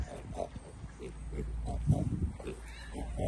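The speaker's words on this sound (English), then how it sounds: "She had 9 pigs. Nine piglets, 9 babies." Pigs at a farm park in Cheshire grunt and oink in short repeated bursts, close and moderately loud, with quiet people talking in the background.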